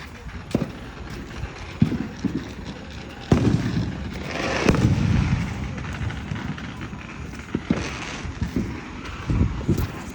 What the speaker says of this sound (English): Hope you guys enjoyed the fireworks show.